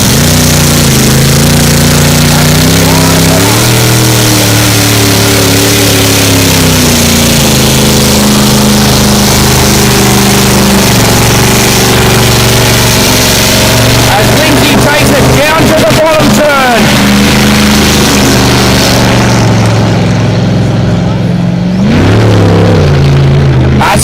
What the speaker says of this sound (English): these boats are absolutely awesome when they are on the top speed and on the plane